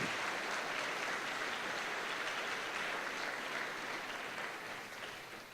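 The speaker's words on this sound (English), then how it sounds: "Please join me in giving our hosts and their students a round of applause." Steady, fairly distant applause from an audience at a school board of education awards and recognition event, an even wash of clapping that tapers off near the end.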